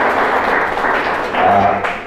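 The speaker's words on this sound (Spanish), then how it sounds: "darles un aplauso, por favor, agradeciendo por eso" An audience at a university event in Bolivia applauds with steady, fairly loud clapping that continues throughout and fades slightly at the end.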